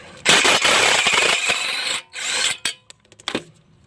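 An 18 mm wrench works a control arm bolt on a 2017 Nissan Rogue, loud close bursts of metallic ratcheting and scraping broken by short pauses, then a few sparse clicks.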